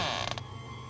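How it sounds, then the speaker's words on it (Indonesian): A door creaks open in one short, drawn-out groan that fades into a low, steady hum, quiet and close, with no voices. "akhirnya pintu ini pun terbuka."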